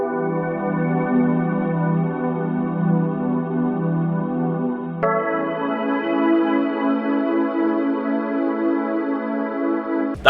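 Ableton's Celestial Pad synth played from a MIDI keyboard, two long, held chords with a soft, steady, shimmering sustain, the second starting midway, even in level and alone.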